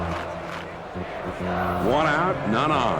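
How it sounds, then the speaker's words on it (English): Baseball stadium crowd in the video game MLB 2K6 roars and cheers steadily, swelling louder partway through, while a play-by-play commentator talks over it. "these fans are loud. I mean, they're cheering"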